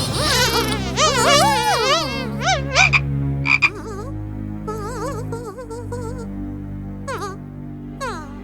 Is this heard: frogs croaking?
yes